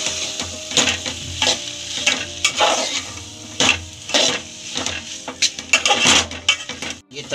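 Maggi noodles with potato stirred in a pan, close clattering spoon strokes and scrapes in an uneven rhythm over a faint sizzle, with metallic knocks against the pan.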